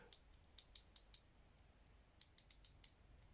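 A small reversible ratchet from a mini everyday-carry toolkit, its roughly 60 teeth clicking in two quick bursts of sharp, crisp ticks, five and then six, close and alone in quiet surroundings.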